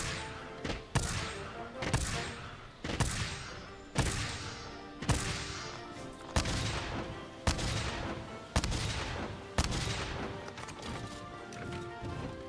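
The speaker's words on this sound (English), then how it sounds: "And now let's compare the shooting speed." A heavy bowgun fires in a video game at a steady pace of roughly one heavy, booming shot per second, each blast loud and close with a short ringing tail before the next.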